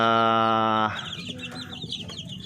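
Chickens cluck and peep close by, a steady harmonic tone giving way to overlapping chirps and clucks from several birds.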